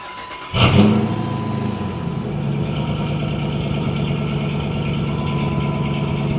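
A modified Dodge Magnum engine starts with a loud surge, then settles into a steady, even idle that carries on alone through the rest of the clip.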